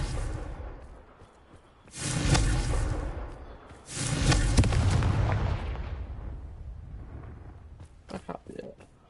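A fire-blast spell in Hogwarts Legacy goes off as two loud whooshing blasts with heavy booming impacts that trail off, followed by a few faint clicks.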